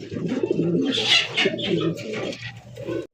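Several pigeons at a pigeon farm coo in overlapping low, throaty calls, close and fairly loud, with brief chirps mixed in.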